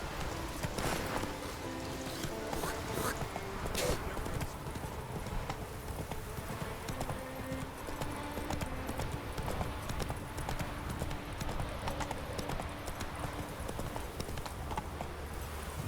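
Hooves of Roach, the horse in the video game Witcher 3, clip-clop in a steady rapid rhythm throughout, close and continuous, laid over game music and ambient sound.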